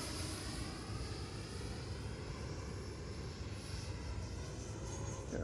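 An FMS Avanti 90mm electric ducted-fan RC jet roars past on a gear pass, a steady, fairly faint whooshing whine holding level for several seconds at a distance.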